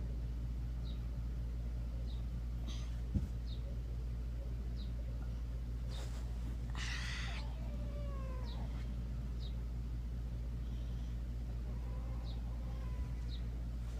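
An adopted pet cat meowing in short, faint cries repeated every second or so, with one longer wavering call midway, over a constant low motor rumble and no speech.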